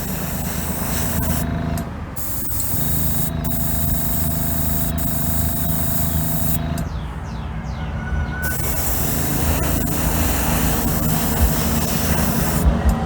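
A spray gun lays a tack coat of paint over chrome on a custom Indian motorcycle or Chevy Silverado part, giving a steady hiss with a few brief interruptions and changes in pressure, heard close and with no voices.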